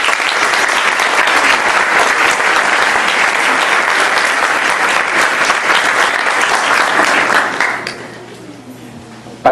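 Loud, sustained applause from a crowd at a professional actuarial event welcoming a speaker, continuous clapping for about eight seconds before it quickly dies away.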